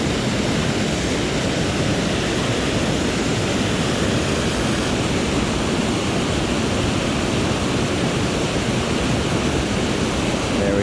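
A waterfall beside a trout fishing spot gives a continuous, dense roar of rushing water, loud and unchanging for the whole stretch, with no voices.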